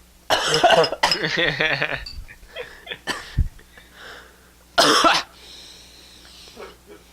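Several harsh, close coughs and throat clearings in short bursts, with raspy breathy sounds and pauses between them, loud and alone.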